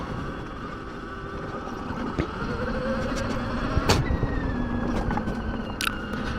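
Ultraviolette X-47 Recon electric adventure bike riding off-road in combat mode, a steady whining electric motor hum with rising tone and rough ground noise, close and continuous with a few sharp knocks.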